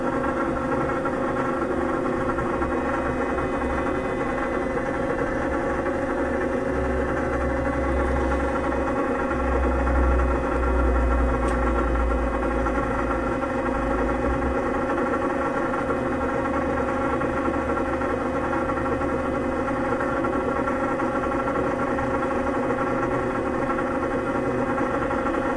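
A Mikulin mechanotherapy vibration apparatus runs with a steady, close, motor-like hum and low buzzing vibration that holds constant throughout, swelling slightly in the middle.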